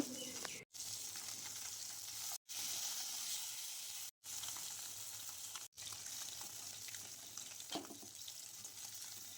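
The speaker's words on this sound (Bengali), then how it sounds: "দেশি ট্যাংরা মাছগুলো ভেজে নেব খুব সুন্দরভাবে উল্টে পাল্টে ভেজে নিতে হবে আর এই মাছটাকে বেশ কড়া করে ভেজে নেব" Desi tangra fish frying crisp in a hot pan, a faint continuous sizzle heard close with no talk, interrupted by a few brief silent gaps.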